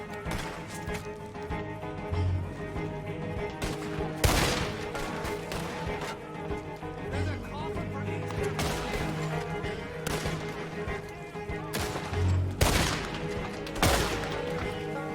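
Rifle gunfire in the Red Dead Redemption 2 video game, a series of loud irregular shots scattered over a steady background of game ambience and music, with no talk.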